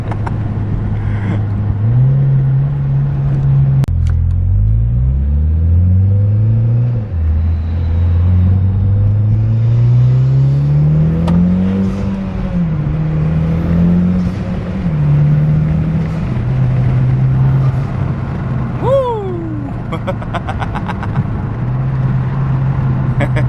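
A Mitsubishi Lancer Evolution X revs hard on the move, its engine note climbing through repeated rising sweeps with brief drops between gear changes, loud and close with no talk.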